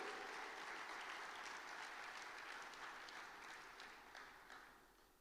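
A church congregation at a Spanish-language worship service applauds in dense, continuous clapping that holds steady, then gradually thins and fades toward the end, heard from a distance at low level.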